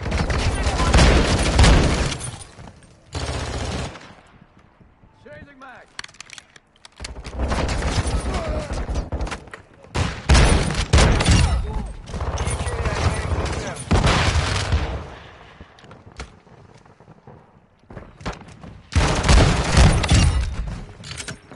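Repeated bursts of shotgun fire in Call of Duty 2 multiplayer, loud and booming in clusters separated by short quieter gaps, with a player talking over parts of the action.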